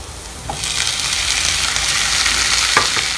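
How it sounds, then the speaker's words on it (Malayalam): Chopped tomatoes drop into oil with sizzling chili powder, setting off a loud, bright hiss that swells after a small clatter and stays steady, with a couple of spoon taps near the end, no one talking. "ഇനി നമുക്ക് തക്കാളി ഇട്ട് കൊടുക്കാം"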